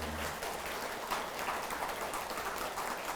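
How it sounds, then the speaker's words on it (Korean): Soft, steady applause from a gathered temple congregation during a Buddhist prayer service, heard as a faint, even patter of many hands without talk. "우리 서로에게 박수를 한번 보내줘야 되겠죠."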